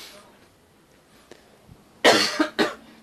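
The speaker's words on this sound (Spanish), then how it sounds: "es que tengo una tos que tremenda" A person coughs hard twice in quick succession, loud and close, after a mostly quiet stretch.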